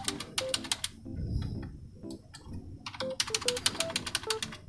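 Numbers are typed on a computer keyboard while filling in a corporate tax form: quick, clicky keystrokes in short bursts with brief pauses, close and fairly quiet, with no voice.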